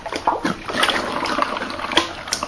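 Waste oil pouring into a filter setup, with uneven splashes and sloshing close by over a continuous liquid stream.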